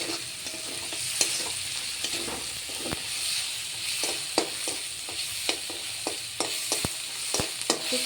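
Spices and vegetables, spinach among them, sizzling as they are stir-fried in a pan, a constant close hiss punctuated by repeated sharp scrapes and taps of the spatula.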